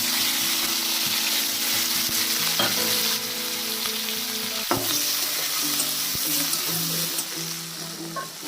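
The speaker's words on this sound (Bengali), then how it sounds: "ওই তেলেই দিয়ে দিল পেঁয়াজ কুচি।" Chopped onion dropped into hot oil, left from frying potatoes for a Bengali-style duck curry, sizzles steadily and loudly, with occasional stirring clicks over the continuous frying hiss.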